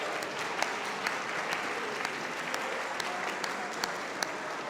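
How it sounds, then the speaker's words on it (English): A crowd at the 41st annual Buffalo Music Hall of Fame induction ceremony applauds in a full, steady roar of clapping, with occasional sharper claps popping out above the dense wash. "Can I get a round of applause?"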